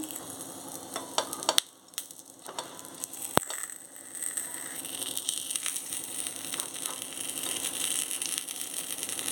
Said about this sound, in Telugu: మూత పెట్టుకొని సిమ్లోనే కాల్చుకోవాలి ఒకసారి తిప్పుకోవాలి ఇలాగా